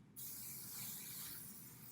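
Hair oil sheen spray sprays all around the hair in one continuous hissing burst that starts abruptly and holds steady and close for nearly two seconds, with no talk.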